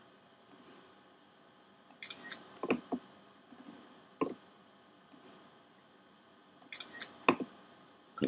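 Computer mouse clicks taking screenshots in a capture app, a few sharp close clicks spaced apart with short bursts of two or three, quiet in between.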